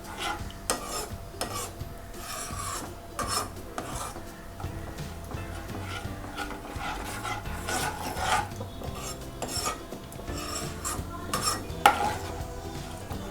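A spoon stirs a thick makhana (foxnut) curry gravy in a pan, giving a steady, scraping, rasping sound with a soft sizzle underneath and no talk.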